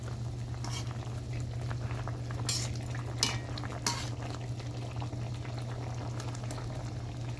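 Potato curry bubbling in a pot, heard as a constant low boiling hum and soft bubbling, with a couple of brief metallic clinks of a utensil partway through.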